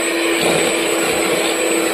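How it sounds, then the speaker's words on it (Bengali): A kitchen blender runs at full speed, mixing powdered ingredients with milk in a loud, steady whirring drone that holds without a break. "সেটা খুব ভালো করে ব্লেন্ড করে নেব।"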